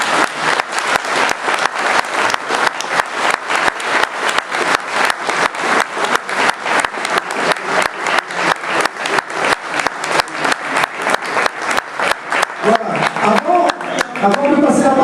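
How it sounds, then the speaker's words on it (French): Sustained loud applause from a crowd, steady clapping throughout with a slight swell near the end. "Et vous applaudissez beaucoup, Monsieur Blondel."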